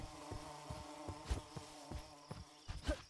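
In a video game, bees give a steady insect-like buzz that runs under a rhythmic pattern of clicks and thuds, fairly quiet and with no speech.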